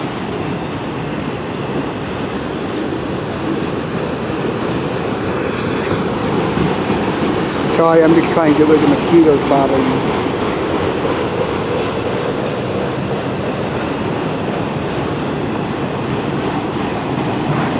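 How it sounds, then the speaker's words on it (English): A CN freight train rolls past near Port Huron in Kimball Township, its wheels clacking in a continuous rumbling stream on the rails, with brief squeals midway, while someone speaks briefly in the foreground. "That's when this train is leaving Port Huron,"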